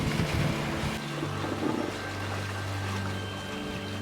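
A sailing boat moves through the sea at night, water rushing and washing steadily along the hull under a low, constant drone, fairly close and without voices.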